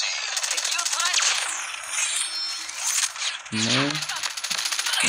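Rapid automatic gunfire from the Mythic Switchblade X9 in a video game rattles loudly and almost continuously, then gives way to a voice speaking briefly near the end.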